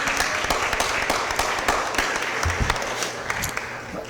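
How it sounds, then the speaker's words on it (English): Audience applause at a city Board of Aldermen meeting greets a newly introduced assistant clerk, steady clapping from a roomful of people that stays loud and even from start to finish, with no speech over it. "Let's give her a big round of applause."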